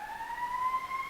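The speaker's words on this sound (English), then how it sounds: "Let the fire engine go by." A fire engine siren sounds from a distance outdoors, a faint, steady wailing tone rising slightly in pitch over a brief moment, alone without talk.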